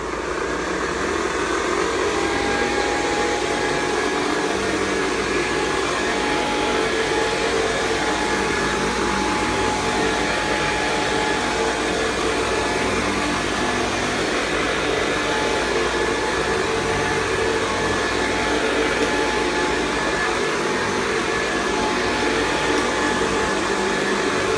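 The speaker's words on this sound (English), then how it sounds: "Hoover Convertible model 1070 from" A 1969 Hoover Convertible model 1070 upright vacuum cleaner runs steadily and loudly, a constant motor whine with airy broadband rush and faint tonal hum, unbroken for the whole stretch with no voices.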